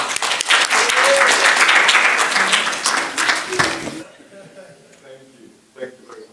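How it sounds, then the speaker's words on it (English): A film expo audience in 2023 gives a screenwriter a round of applause: loud, full clapping from a sizeable crowd that holds for about four seconds, then fades away beneath light room noise and a voice. "Can we give him a round of applause?"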